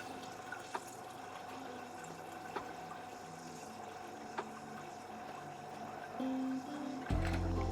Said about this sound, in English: So I'm just gonna pour 3/4 of this into there